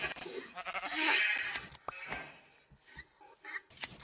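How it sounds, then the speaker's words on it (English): Sheep in a video game bleat several times in short calls, moderately close, among other faint game sounds. "Now there's sheep."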